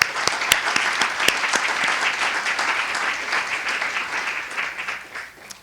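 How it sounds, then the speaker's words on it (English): A summit audience breaks into steady, dense applause with a few sharper claps standing out, holding strong throughout and easing slightly at the very end. "I hope you'll join me in giving them a round of applause."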